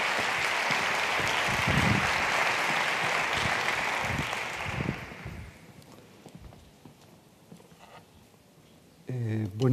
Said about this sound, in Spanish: Recibamos con un fuerte aplauso a don Fulgencio San Martín.